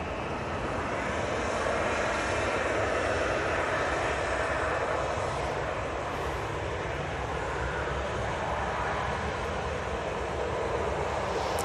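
A Ryanair airliner from Paphos approaching Manchester over Stockport roars steadily overhead, a broad, sustained jet rumble that stays loud and continuous throughout, with no voices.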